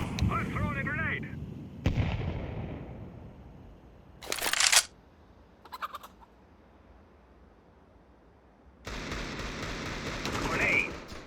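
Video game combat: a heavy grenade-like blast and bursts of gunfire arrive in separate chunks between quieter gaps, the loudest burst coming mid-way and a sustained noisy stretch near the end, with voices heard early on.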